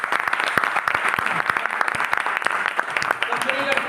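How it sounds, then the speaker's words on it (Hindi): Loud audience applause rings out at a business training seminar in a hall, a brief burst of packed clapping with some voices mixed in. "जोरदार ताली।"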